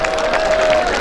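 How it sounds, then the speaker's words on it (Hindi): An audience at a formal military farewell gathering claps and cheers in a brief, loud, dense burst with no pauses. "तालियां होनी चाहिए।"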